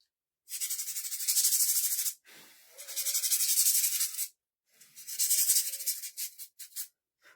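Sandpaper rubbing over small craft pieces before painting, three long bursts of steady scratchy scraping separated by short pauses, close and fairly quiet with no talk.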